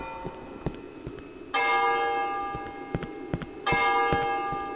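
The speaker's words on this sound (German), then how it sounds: "Warum hat sich auch mal der Glockenschlag verändert?" Church bell in the Cry of Fear video game striking twice with ringing metallic tones, each strike sustaining and fading, with faint ticking and soft clicks in the background.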